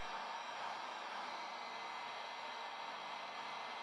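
A heat gun blows on glue along the suede midsole of a Jordan 13 Bred sneaker during a restoration, giving a steady, close, continuous airy whoosh with no talking.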